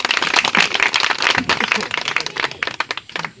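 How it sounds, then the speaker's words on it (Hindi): An audience at a gathering applauds with quick, dense clapping that rises and falls in bursts for a few seconds, fairly near and loud. "तालियां बजा दें।"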